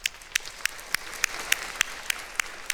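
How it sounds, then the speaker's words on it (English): Scattered audience applause at a school commencement ceremony, a handful of distinct claps spaced roughly every third of a second, fairly sparse and moderately loud over a low room hum, with no voices. "I'd like to give them a round of applause, please."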